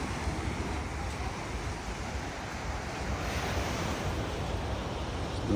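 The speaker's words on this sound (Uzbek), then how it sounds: "Mana dengiz." Sea waves wash onto a sandy beach in a continuous, broad roar, mixed with wind buffeting the microphone and a faint distant rumble of traffic.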